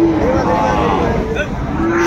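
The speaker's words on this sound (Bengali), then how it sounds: "চমৎকার একটি ষাঁড় বাচ্চা, একেবারে কোয়ালিটি সম্পন্ন" A Sahiwal bull calf lets out a single drawn-out, close moo at a busy cattle market, with faint crowd noise behind it.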